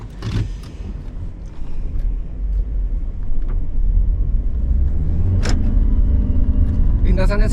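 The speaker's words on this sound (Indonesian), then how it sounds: "Mobilnya akan berakselerasi ke 80 km per jam dan melakukan pengereman maksimal" A car on a wet test track during a tyre braking test, its engine rumble building steadily as it accelerates, with sharp squeaks near the end and people talking over it.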